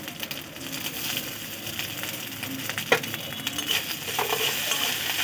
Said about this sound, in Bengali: খুব ভালো করে ভেজে নেবো আদাগুলোকে